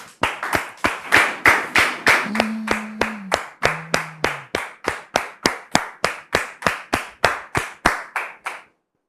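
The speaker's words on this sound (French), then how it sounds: "On le reçoit maintenant sous vos applaudissements." Rhythmic unison clapping from a studio audience welcoming a guest onto a French-language talk show set, loud and steady beats that build then stop abruptly, with a brief low tone sounding partway through.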